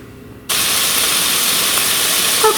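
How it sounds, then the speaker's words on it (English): Pork sausage fries on a stove: after a brief quiet moment, a loud, steady hiss of sizzling fat bursts in and holds close and constant. "Okay, so I'm over at the stove and I'm frying up my pork sausage."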